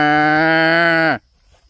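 A person imitates a cow's moo, one long loud sustained low call held steadily before cutting off abruptly, close to the microphone.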